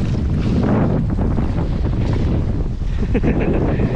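Strong wind buffets the microphone on a boat at sea, a continuous loud roaring rush with gusty fluctuations, faint water noise and brief voices underneath.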